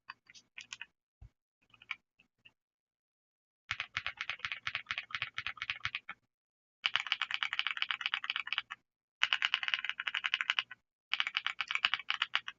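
Typing on a ReDragon Eisa mechanical keyboard fitted with double shot keycaps, quick clacky keystrokes in several bursts separated by pauses, close and crisp.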